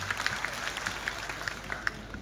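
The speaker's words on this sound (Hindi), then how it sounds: "जोरदार ताली बजा के उनका अभिनंदन करते हैं" An audience at a Hindi poetry gathering (kavi sammelan) honoring Maharana Pratap's birth anniversary claps, with scattered sharp claps rising over a steady murmur for a couple of seconds.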